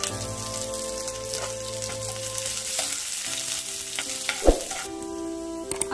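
Ginger and green chillies fry in hot oil with a dense, close crackling sizzle, broken by a few spoon taps and one louder knock partway through, and no voices.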